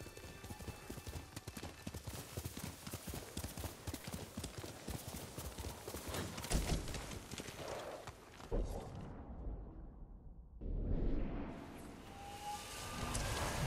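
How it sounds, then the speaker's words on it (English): Hooves of a galloping horse in the video game Ghost of Tsushima pound in a steady, rapid clip-clop rhythm for most of the stretch, then fall away briefly before the rumble returns. "Good horse, Kage."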